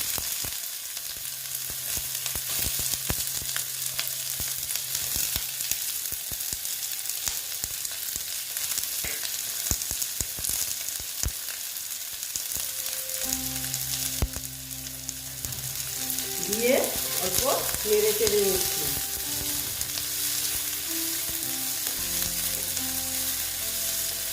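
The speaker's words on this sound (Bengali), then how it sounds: "এখন আমি পেঁয়াজ কুচি দিয়ে দিচ্ছি" Chopped onion frying in hot oil in a pan, a steady close sizzle that continues throughout with occasional stirring scrapes, no voice over it.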